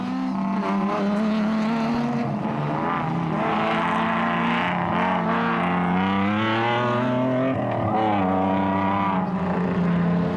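Toyota Hilux rally trucks in an off-road race, the Carnival City 400, roar steadily past at close range, a loud sustained engine drone with rising and falling pitch as they accelerate and pass.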